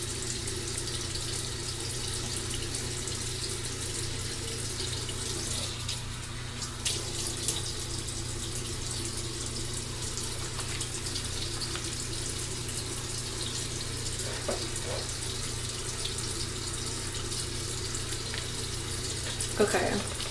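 A tap runs steadily into a sink during washing, a continuous broadband hiss close by that fills the whole stretch with little change, with faint voice traces underneath.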